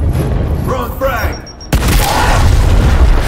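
A frag grenade goes off in Gears Tactics with a sudden loud boom and a rumbling blast tail. A character shouts just before it.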